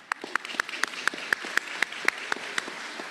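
Audience applause at the Penn State Schuylkill Spring 2024 commencement ceremony: moderately distant clapping with distinct, evenly spaced claps standing out over a soft wash of hands, steady throughout and with no voices.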